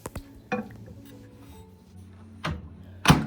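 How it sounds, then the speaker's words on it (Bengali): A bowl of moong dal curry is set back inside a microwave oven with a few separate knocks and thuds of the dish and oven, the loudest at the end, close by with quiet handling between them. "এবার বাটিটিকে আমি আবারও মাইক্রোওয়েভ ওভেনের মধ্যে দিয়ে দিচ্ছি।"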